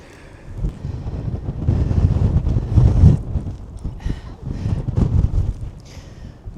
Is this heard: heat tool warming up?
no